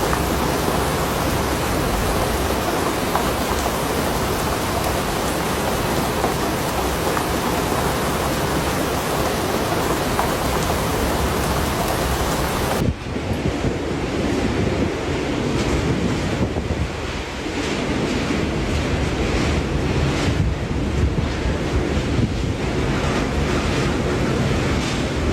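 Extremely strong storm wind roars over the sea at Ha Long Bay, Vietnam, a loud, continuous broadband rush with surf-like buffeting that batters the microphone, easing slightly and turning gustier about halfway through.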